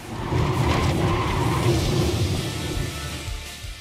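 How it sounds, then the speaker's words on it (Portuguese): A race car in a racing video game slides off track into a gravel trap, giving a continuous gritty, rushing roar with skid noise that holds for several seconds and fades slightly at the end. "Dei uma passeada na brita."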